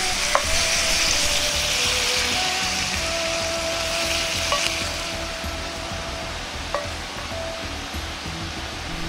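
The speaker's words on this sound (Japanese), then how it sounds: "フライパンで炒めてタレに絡めるだけなので手軽に簡単に作れました" Bitter melon being stir-fried in sauce in a frying pan gives a steady, close sizzle that runs throughout, with a few faint clinks of a utensil against the pan and no talking.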